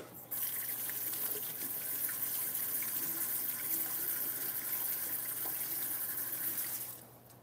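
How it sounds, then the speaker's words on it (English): Water runs steadily from a tap as hands are rinsed, a near, even gushing stream that starts abruptly and carries on for several seconds before trailing off. "I'm gonna go rinse my hand"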